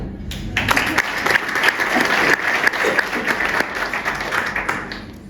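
An awards ceremony audience in Ouarzazate, Morocco, applauds the jury with loud, sustained clapping from a full room, many hands blending into a continuous roar close to the microphone.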